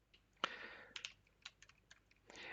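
Typing on a computer keyboard during an Arch Linux install, a few quiet, irregular key clicks with one sharper tap and a short rapid burst at the end.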